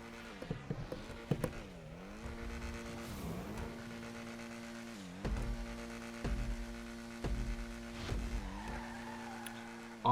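A Lampadati Komoda sports car in GTA accelerates down a nearly straight street drag strip, its engine rising in pitch repeatedly through gear changes, with tire noise and occasional thumps under the steady engine drone.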